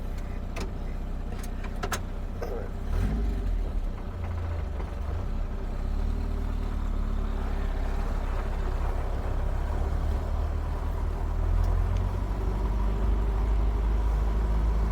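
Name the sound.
Ford 100e Anglia car engine running while driving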